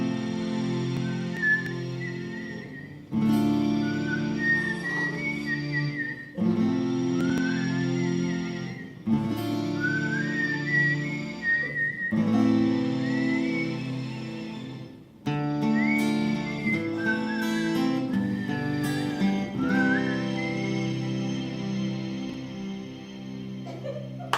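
A person whistles a song melody in several phrases separated by short pauses, with a steady instrumental accompaniment underneath.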